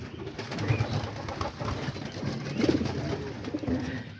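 Pigeons in a coop give soft, low, repeated cooing calls close by, layered over a steady murmur of other birds.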